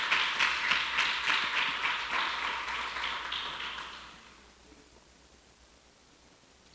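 A church congregation applauds, a dense patter of clapping hands that holds steady for about four seconds and then fades away into quiet room tone.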